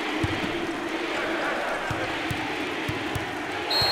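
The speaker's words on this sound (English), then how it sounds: "That's a great response by this crowd. What a response. What enthusiasm." Basketball arena crowd at a 2023-24 NCAA game, Stetson at Houston, cheering and roaring steadily throughout, with sharp ball bounces and court thuds cutting through the broad crowd noise.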